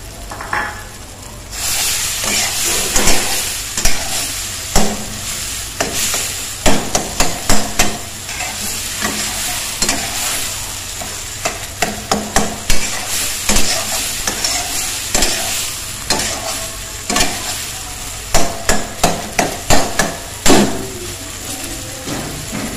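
Minced meat (keema) fries in a pan with cumin and spices, a steady close sizzle under frequent sharp scraping and knocking strokes of a spoon stirring against the metal, continuing without talk.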